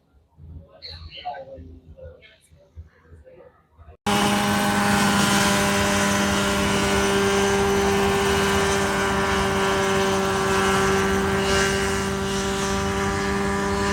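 A Mosquito light helicopter flying low near the ground at Oshkosh, its rotor and engine drone loud and steady after a few seconds of talking, filling the rest of the clip.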